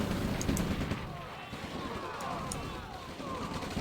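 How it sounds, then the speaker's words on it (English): Machine gun pillboxes fire steadily in the Red Alert strategy game, a continuous clatter of distant automatic gunfire mixed with other battle noise throughout. "machine gun pillboxes are actually slaughtering all my infantry"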